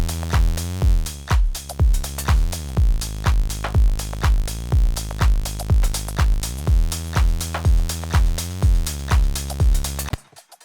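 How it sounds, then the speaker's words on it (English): A lo-fi style bass line plays alone in a track before mixing, a loud, rhythmic run of repeated plucked bass notes with steady punchy attacks and a few pitch slides, cutting off near the end. "So right now the bass sounds like this."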